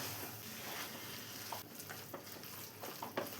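Chicken and salt are mixed in a pan for a country-style curry with thick gravy, giving a soft, steady sizzle with faint scraping and stirring. The sound stays close and quiet, with no talking.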